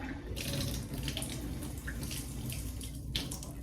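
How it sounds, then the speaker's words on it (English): Water runs steadily from a newly installed household valve, a continuous hiss and splash at moderate distance, with no voices. "We'll turn this water on real quick and make sure it's fully"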